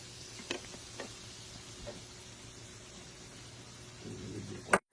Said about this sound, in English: now that the oil's ready, we're just gonna go ahead and lay our biscuit dough